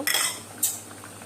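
A metal spoon clinks twice against a pot of potato curry as cumin and garam masala paste is added, two quick bright taps close by.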